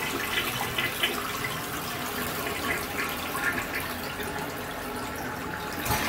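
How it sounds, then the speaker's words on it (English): A household toilet bowl being cleaned with Pine-Sol flushes with a steady, loud rush of water that holds for several seconds and surges again at the end, with no talk. "I'm just gonna flush this one more time so we make sure"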